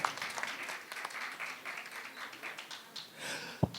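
Audience applause at a Hindi poetry book launch ceremony, a dense sustained burst of many hands clapping with a brief louder thump near the end.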